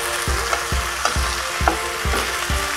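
Vegetables for Kerala aviyal sizzling and frying in a pan while being stirred, with a steady hiss broken by regular scraping strokes about twice a second, close and loud, no talk.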